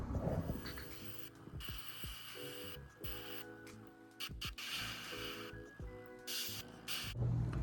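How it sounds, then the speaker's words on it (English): Airbrush spraying red paint onto a Warhammer 40k Death Korps of Krieg death rider miniature: a steady, close hiss of air and paint in several bursts, with a faint hum from the compressor beneath. "I'm just going to take it out and run it through the airbrush"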